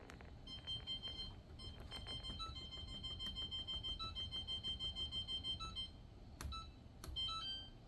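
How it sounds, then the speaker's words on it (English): A kitchen timer is set while French onion soup cooks, giving a quiet series of electronic button beeps and short tones, with a couple of sharper bleeps near the end. "We're gonna put the timer on."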